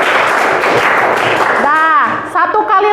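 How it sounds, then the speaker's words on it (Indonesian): Classroom of Islamic studies pupils clapping together in a burst for about a second and a half, followed by children's voices chanting in unison. "Tepuk tangan."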